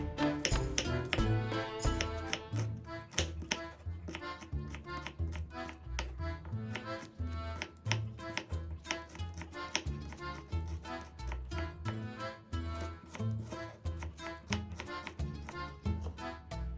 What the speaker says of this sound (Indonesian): Untuk bawang merahnya, aku potong dengan diiris tipis.